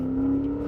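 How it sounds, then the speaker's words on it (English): A Mercedes-Benz G-Wagon with a loud MBRP aftermarket exhaust holds a steady, close engine drone at revs, a low rumble with no break across the short moment. "This has an MBRP aftermarket exhaust, and it's really loud."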